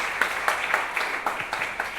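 An audience claps for a guest, journalist Mati Mauset, on a talk show, with brisk rhythmic claps landing in a steady beat at moderate volume, largely free of talk.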